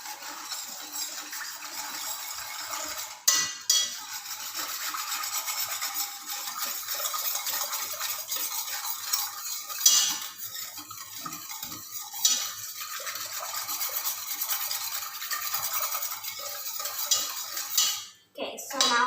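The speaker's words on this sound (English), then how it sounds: "Now we're going to whisk it until it is nicely mixed." A whisk beats milk with sugar and vanilla extract in a bowl for a no-bake pudding cake, a quick, continuous metallic scraping and clinking against the bowl with a few brief pauses and knocks.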